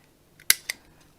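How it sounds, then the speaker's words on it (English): A corner punch trims the corners off paper squares with one sharp, close click, followed a moment later by a second lighter snap in a quiet room. "I'm just going to take the corner punch and I'm just going to corner off 2 opposite corners on all the squares that I cut"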